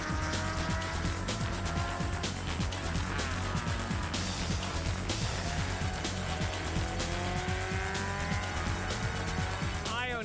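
Racing GT cars circle the Magny-Cours circuit, engines droning and whining steadily with tire squeal and passing surges, under continuous talk.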